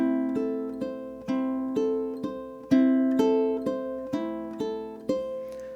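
A ukulele plays the opening bar of Moonlight Sonata as steady, even plucked notes that repeat in a rolling arpeggio, clear and close, with no voices.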